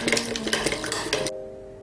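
Quick, rapid clinking of a utensil beating two eggs in a bowl, bright and close, stopping abruptly near the end.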